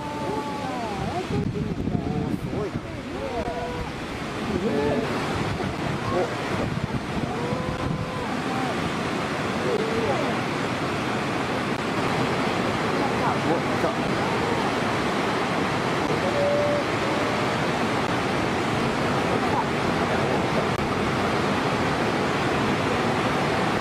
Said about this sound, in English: This is what it looks like when large dam gates are opened outside of a water cleaning and processing center.